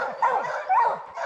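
Hunting hounds on a bear hunt give a couple of quick, close yelping barks with whiny tails, loud and alone over just over a second.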